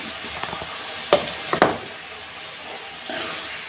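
Chilli powder and coriander powder being stirred into sizzling pasta sauce in a pan, with a faint frying hiss under a few sharp scrapes and knocks of a spoon against the pan.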